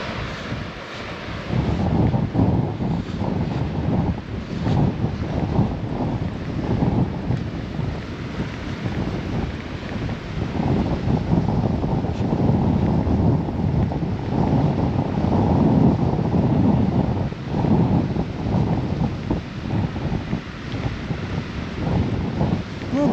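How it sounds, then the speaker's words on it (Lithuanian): A light southerly wind blows by the sea on a cool day, buffeting the microphone in a constant low roar, with surf faintly mixed in. "Nestiprus, pietų vėjelis, bet šiandien yra dar šaltoka."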